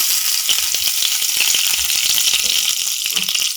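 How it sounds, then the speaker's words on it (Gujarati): Cumin seeds and chopped curry leaves sizzle steadily in hot oil for jeera potatoes, a close, dense crackling hiss with scattered small pops and no talk. "જીરું થોડું ચટકે એટલે આપણે એમાં લીમડાના પાનના ઝીણા આપણે ટુકડા કરી અને એડ કરી દઈશું"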